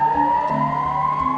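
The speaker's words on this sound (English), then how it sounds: "As sirens wailed" Sirens wail with sustained, gliding tones that hold loud and steady throughout, rising slightly in pitch, with no talking over them.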